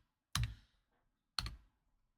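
Two separate key presses on a computer keyboard while entering data in an Excel spreadsheet, each a short, quiet click about a second apart in an otherwise silent room.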